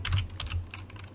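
A file name being typed on a computer keyboard while saving an Autodesk Inventor part, a quick close burst of several keystrokes with no talk.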